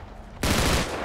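Gunfire in GTA 5 with a Texas state trooper mod: after a quiet moment a sudden loud, dense burst of shots erupts close by and keeps roaring steadily to the end.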